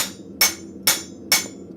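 A hammer strikes metal at a blacksmith forge four times in a steady rhythm, each blow a sharp, bright ringing clang, close and loud with quiet shop hum between strikes.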